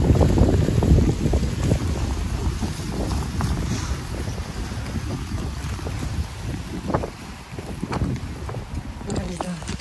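Gusty wind buffets the microphone with low rumbling roars in Fukui, Japan, while people talk intermittently under the blustery noise.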